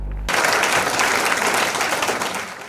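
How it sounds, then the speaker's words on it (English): A crowd of women gives thunderous applause at a fund presentation for female petty traders, dense loud clapping that erupts abruptly and holds steady until the end. "Thunderous clapping erupts from people"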